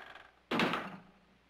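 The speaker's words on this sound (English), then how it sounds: "Shut that door." A single heavy door thuds shut close by, a loud sudden knock that rings briefly and fades over about a second in a quiet interior.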